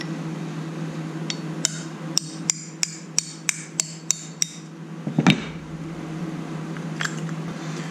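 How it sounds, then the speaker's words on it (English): A hammer taps a punch against a stuck pin in the front brake of a 1985 Honda Shadow 700 motorcycle: about ten crisp, evenly spaced metallic strikes close up, then a short scraping clatter. "Looks like I can tap them through this way and get a punch"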